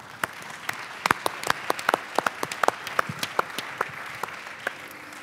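Sparse, scattered clapping from a small audience as people are called onto a stage, with individual sharp claps clearly separated and moderately close.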